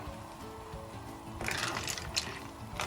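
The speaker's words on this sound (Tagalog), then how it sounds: "Maglalagay lang ako ng tubig." Hot water pours into a cooking pot for a clam and shrimp dish, a splashing gush that starts about halfway through over a low background hum and continues in bursts.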